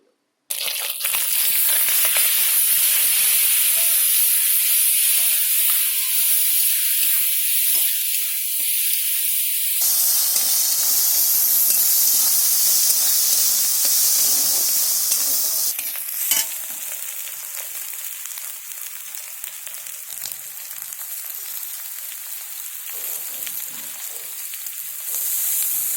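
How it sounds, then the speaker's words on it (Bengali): Eggplant pieces hit hot oil after a cumin seed tempering and fry with a loud, steady sizzle that eases to a quieter hiss partway through. "অল্প একটু জিরে ফোড়ন দিল, ফোড়নটা ফুটে উঠলেই দিয়ে দিল বেগুনগুলো।"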